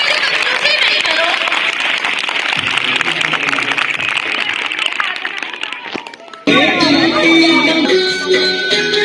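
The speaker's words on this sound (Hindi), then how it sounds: "सभी को हार्दिक जोरदार तालियां। तालियों में बच्चे कंजूसी नहीं करो।" Children clapping loudly together at a school Janmashtami celebration, a dense, continuous wash of claps with crowd noise and voices, briefly dipping before resuming even fuller.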